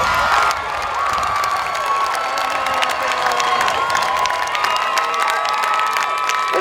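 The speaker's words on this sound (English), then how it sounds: "stand up, and give them a round of applause" A large graduation crowd cheers and applauds at a 2019 high school ceremony, a dense, steady roar of clapping, whoops and shouting voices that stays loud throughout.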